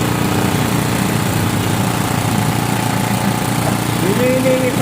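A small generator engine runs steadily and loudly throughout at a constant idle-like drone, with a faint voice in the background; the generator's carburetor has been cleaned.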